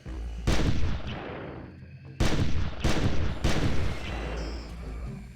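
Shotgun slugs fired at a Dilophosaurus in the hunting game Carnivores: four loud, booming blasts in a row, each trailing off into echo.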